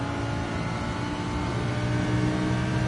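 Race car engine in Gran Turismo 7, a steady loud droning hum with strong harmonic tones, held at a constant pitch and level with no pauses.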